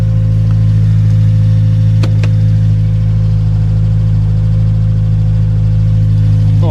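A Honda Civic Type R EP3 engine idles steadily, a loud, even low drone with constant hum, a couple of faint clicks, no talk.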